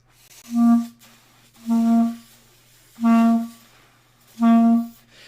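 Four separate breathy reed tones, each about half a second long with airy hiss, spaced evenly with short silences between.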